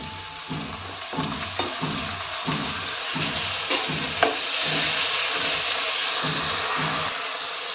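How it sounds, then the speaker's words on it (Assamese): Tomato frying in a pan with garlic and ginger: a steady sizzle broken by regular stirring scrapes, close and fairly loud, with no speech. "এতিয়া ৰসুন আদা খিনি ভাজি হোৱা পাছত মই এতিয়া দি দিছো এটা বিলাহী"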